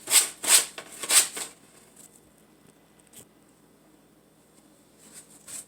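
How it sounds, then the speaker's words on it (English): Three quick raspy sanding strokes against a small wooden bunny decoration up close, then a quiet pause with a faint tap and a few softer rubs at the end. "I'm going to go ahead and finish sanding this."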